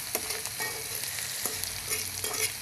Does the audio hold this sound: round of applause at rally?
no